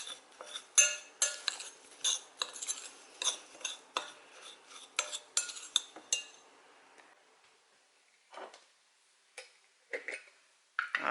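A utensil clinks and scrapes against a bowl in rapid, regular strokes, mixing baking soda into dry ingredients for gluten-free oatmeal raisin cookies, then slows to a few scattered taps near the end.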